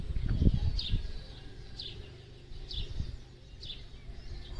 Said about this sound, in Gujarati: જોરદાર પક્ષીઓનો અવાજ એ જોરદાર આવે